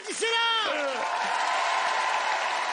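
A studio audience breaks into cheering and whoops at a French television comedy show, starting with a loud voiced shout that swells into sustained crowd noise and clapping.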